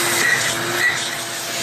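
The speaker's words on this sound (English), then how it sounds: "I'm going to put this shop vacuum here on it" A shop vacuum runs steadily nearby during oil service on a GY6 scooter, a continuous airy hiss and whir with a faint tonal hum underneath.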